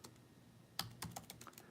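A zip code typed on a computer keyboard: a quick burst of crisp, close keystrokes after a brief quiet start, clattering at an uneven rhythm with no voices.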